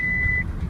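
Car reversing beeps: a single steady high electronic tone that sounds for about half a second and then stops, over a low rumbling engine and road noise.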